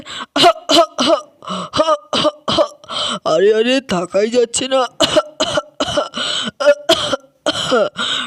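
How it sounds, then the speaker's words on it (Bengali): A person voicing a character in a doll-play story coughs and clears their throat repeatedly between short spoken phrases, the rough throaty bursts loud and close amid the talk. "খুবই তো কাশি হচ্ছে দেখছি"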